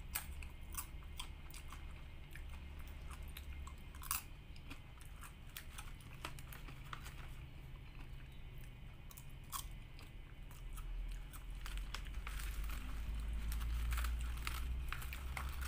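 Someone eats homemade roti, with close, quiet chewing and soft crunchy bites repeating irregularly, plus light crinkling, and a low rumble building toward the end.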